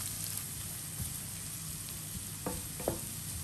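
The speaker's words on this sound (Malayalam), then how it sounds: "ഇനി നമുക്ക് വേണ്ടത് സബോള ഒന്ന് ചെറുതായിട്ട് വഴറ്റിയെടുക്കണം." Onion sautéing in sunflower oil gives a steady, close frying sizzle with light stirring scrapes and a couple of brief clinks near the end; no voices.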